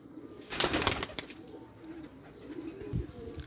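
A pair of Teddy pigeons in Lahore gives soft, low coos close by, after a brief rustling burst near the start, with no voices.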